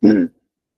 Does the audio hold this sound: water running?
no